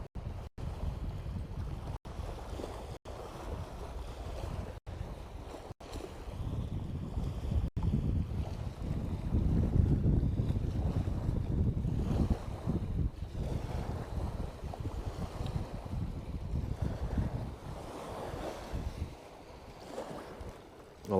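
Wind over Grapevine Lake rushes and buffets the microphone in a continuous low roar that swells and eases, with water and wave noise beneath it and a few sharp clicks early on.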